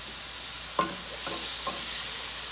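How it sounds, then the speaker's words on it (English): Onions and mushrooms cooking down in a pan for shrimp and spinach Alfredo, a steady soft sizzle throughout with a few brief stirring clinks and scrapes near the middle. "our onions and mushrooms are starting to cook down"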